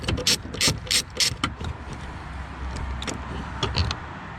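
A ratchet tightens 8mm bolts while a tow mirror is installed on a Ford F150: a quick burst of clicking ratchet strokes, then quieter fiddling and a few more clicks, recorded close up.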